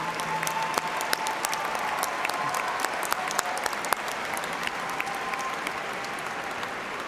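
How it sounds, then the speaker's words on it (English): Sustained, dense applause fills a large commencement ceremony hall at Eastern Kentucky University, many hands clapping steadily at an even level from start to finish, with no talking heard. "how about a big round of applause for Professor John Strada and handling all those names?"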